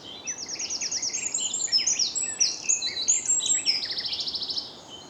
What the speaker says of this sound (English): Unsure if it's a garden warbler.